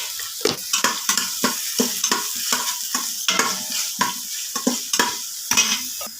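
Onions with salt fry and get stirred in a hot pan, a steady loud sizzle broken by rhythmic scraping strokes of the spoon, close up with no talking.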